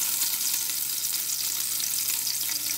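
Onion sautéing in a hot pan on a home stove, a steady, close hiss of sizzling oil without pause or voices.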